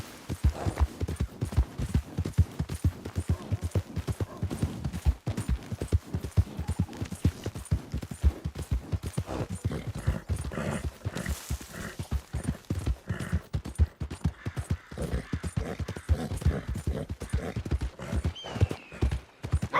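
Horse hooves gallop in Red Dead Redemption 2, a rapid, even clip-clop rhythm that runs loud and continuous, with a faint whinny partway through.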